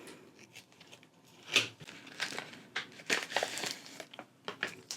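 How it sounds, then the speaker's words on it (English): Plastic packaging around a new art book is pulled open and handled, giving quiet, irregular crinkles and rustles with a few sharper crackles, close up and without talk. "So it comes wrapped in an inside plastic bag."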